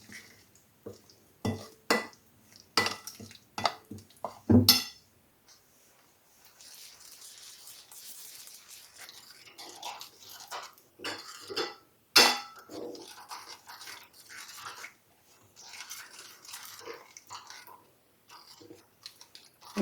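Spice paste is stirred with salt and food colouring in a bowl for a pomfret fish fry, with sharp clinks and taps in quick succession at first, then softer, continuous scraping and stirring with a few louder knocks.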